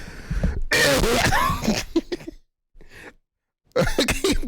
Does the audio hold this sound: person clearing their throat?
yes